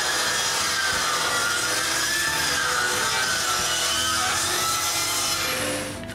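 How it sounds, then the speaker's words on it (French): Saw cutting steadily through wood in a series of cuts for a wooden bandsaw build, a loud continuous rasping stroke that fades slightly at the end. "Ensuite, je fais une série de coupes."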